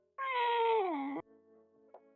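A cat gives one loud, drawn-out meow close by, its pitch sliding downward before it cuts off, followed by quiet room sound.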